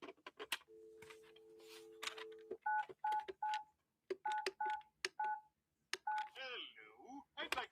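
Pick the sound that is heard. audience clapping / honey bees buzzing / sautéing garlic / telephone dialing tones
telephone dialing tones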